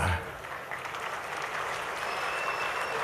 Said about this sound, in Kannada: ಯಾರು ಚಪ್ಪಾಳೆ ಜೋರಾಗಿ ತಡ್ತಾರೆ ಅವರು ನನ್ನ ಪಾಲಿಗೆ ದೇವರ ಸಮಾನ